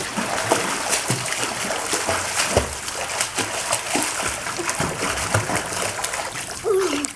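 A young child swims underwater in a pool, with continuous close splashing and churning water throughout and a brief voice near the end.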